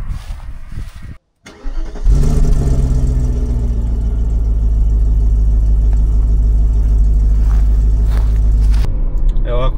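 A BMW E38 with its original 4.4i V8 swapped back in cranks and fires up, then settles into a loud, steady, deep rumbling idle close to the engine bay, after brief background noise before the start.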